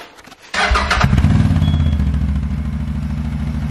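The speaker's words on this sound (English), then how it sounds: "we're going to start the quad up" CFMoto CForce 850 XC quad with stock exhaust starting up: a brief starter crank, then the engine catches and settles into a steady, muffled, close idle with no talk.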